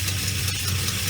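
A big block Ford station wagon engine runs at a rough idle, a steady low rumble with a slightly uneven pulse, close and continuous through the short moment.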